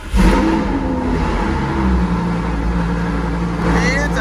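A car fitted with an aftermarket Zen Rage exhaust revs up, its engine rising and holding with a throaty, whirring tone, close and loud throughout.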